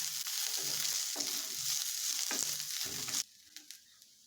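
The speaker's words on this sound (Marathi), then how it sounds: "यानंतर याच्यामध्ये एक कांदा चिरलेला घालायचा हे आपल्याला कमी गॅसवरती परतून घ्यायचं आहे" Chopped onion frying on low gas for a soybean curry crackles in a steady close sizzle with soft stirring scrapes, then cuts off abruptly, leaving a few faint clicks.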